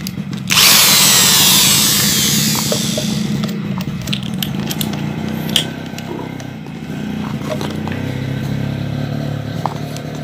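A loud electric drill whirs steadily and close by, used in place of a grinder to modify a drill bit into a reamer, starting abruptly and running continuously with slight shifts in pitch.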